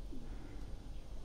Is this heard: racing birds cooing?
yes